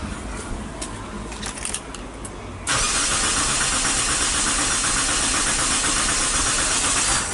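A 2001 Mitsubishi Galant with a swapped 4G94 engine is cranked without starting. After a few seconds of quieter shop noise, a loud, steady churning hiss from the starter begins suddenly and continues unbroken to the end.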